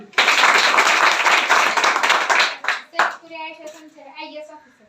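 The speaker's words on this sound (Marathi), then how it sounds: "व्हेरी गुड जोरदार टाळी" Loud clapping from a group of village schoolchildren applauding a student, a dense burst for about two seconds that thins into scattered claps and then gives way to someone talking.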